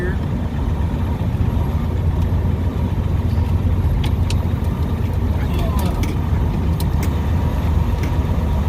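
A semi truck rolls and turns slowly across a bumpy truck yard, its engine a steady low rumble with cab rattles and occasional sharp clanks as the rig jolts over rough ground.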